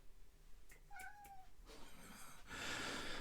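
A house cat gives a short, clear meow near the microphone, followed by soft rustling and a rising broadband hiss in a quiet indoor room.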